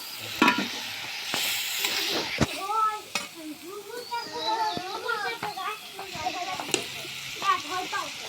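Goat meat hits a hot pan for a bhuna and sizzles with an uneven frying hiss. Children's and adults' voices chatter and call over it throughout.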